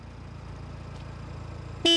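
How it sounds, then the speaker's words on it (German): A low engine idle rumbles, then a single short, loud car horn honk sounds right at the end. "mal schnell hupen"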